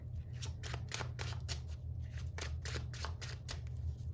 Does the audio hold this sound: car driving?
no